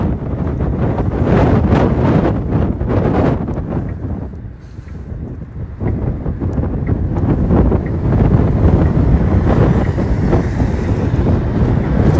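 Gusty wind blows beside a river near a highway and buffets the microphone with a loud, continuous low roar. It eases briefly midway, then surges back just as strongly.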